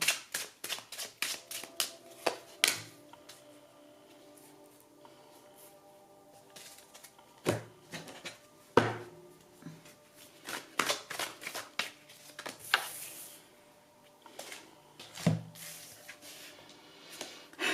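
Oracle cards are shuffled by hand in repeated bursts of riffling, papery flicks and taps, close and crisp, with quieter pauses and a few sharper slaps as the deck is cut and squared.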